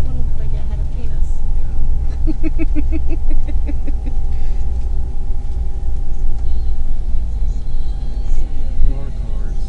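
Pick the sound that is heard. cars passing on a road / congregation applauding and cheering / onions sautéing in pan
cars passing on a road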